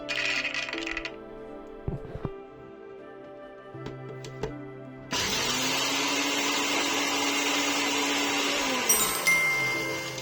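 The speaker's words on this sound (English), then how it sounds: "I am grinding about 10 to 15 almonds." Small electric grinder milling about 10 to 15 almonds into powder for a flourless oat and carrot cake, a steady loud whirring roar that starts midway after a few light clicks and runs continuously to the end.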